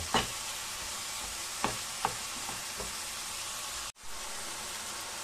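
Minced meat frying in a pan with vegetables, a steady close sizzle broken by a few sharp scrapes and knocks as the mixture is stirred. No one speaks.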